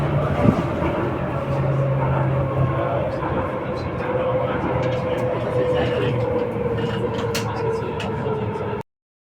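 A Copenhagen metro train runs with a steady, loud rumbling drone and a faint rising whine, with muffled voices murmuring inside the carriage throughout.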